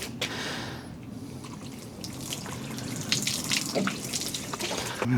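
Water runs from a tap in a garage or workshop where car headlights are being cleaned, a steady close splashing flow with a few drips and clinks, no talking.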